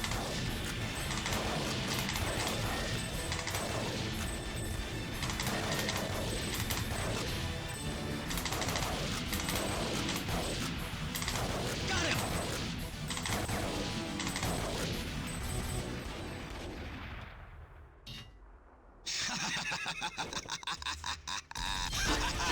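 Near-continuous light-gun gunfire from the arcade shooter Time Crisis II, dense rapid shots and crashes over game music and effects, then a brief lull before the action resumes.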